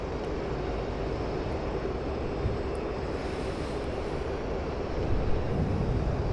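Mirage F-1 jet in a flight simulator game, a dense, steady engine roar with rushing air that holds constant and swells slightly near the end, with no voices over it.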